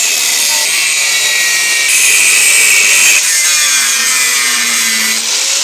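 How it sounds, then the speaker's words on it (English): A power tool saws steadily through bodged repair patches on a car body, giving a loud, continuous, harsh grinding and rasping that rises in intensity partway through, with no talking. "Let's get it cut out and see what these patches are covering."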